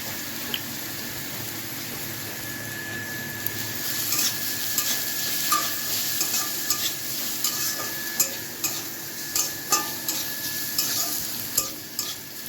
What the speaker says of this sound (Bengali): তো হচ্ছে আলু ভাজা।